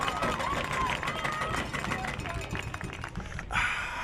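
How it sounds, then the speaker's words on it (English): Chargers fans at a high school football game make a loud, dense wall of crowd noise with rapid rhythmic clanking, likely a cowbell, and a voice is heard through the roar. "Got a little cowbell going on there. Plenty of noise from the Chargers faithful."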